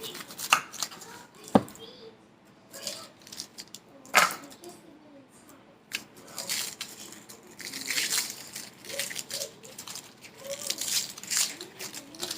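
A knife cuts the top and bottom off an onion: sharp chopping thunks against a board, followed by papery crinkling and rustling as the onion is handled, with a person talking intermittently.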